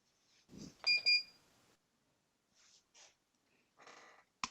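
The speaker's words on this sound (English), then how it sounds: "I heard a double beep on my lap timer" A drone race lap timer gives a quick double beep, two short bright tones close together amid faint breathy sounds and small clicks in a quiet room.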